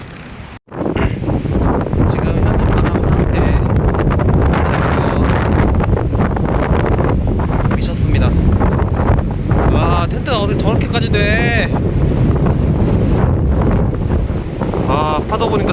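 Strong wind roars steadily and loudly across the microphone on a rainy autumn day in Gangwon-do, a constant buffeting rush with faint voices buried beneath it.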